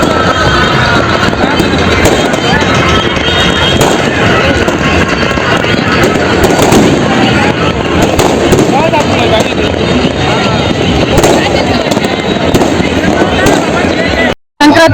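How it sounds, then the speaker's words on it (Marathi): An evening fireworks display marks the close of a city kite festival: a loud, dense, continuous crackle and rumble of bursts fills the whole stretch before cutting off abruptly near the end. "संध्याकाळी फटाक्याच्या आतिषबाजीने वाजत गाजत शहरवासियांनी पतंगोत्सवाची सांगता केली आहे"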